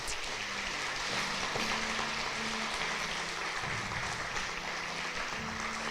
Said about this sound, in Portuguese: Dá uma salva de palmas para o Senhor aí